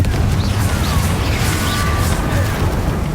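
Confringo fire spells blasting in Hogwarts Legacy during a fight with Inferi, a dense, continuous roar of booming bursts with crackling high hiss, loud and sustained throughout, with no speech over it.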